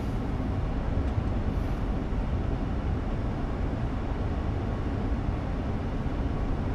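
An ÖBB 1116 Taurus electric locomotive running in Train Sim World 4, heard from the cab as a steady, dense rolling rumble with constant wheel and track noise and no pauses.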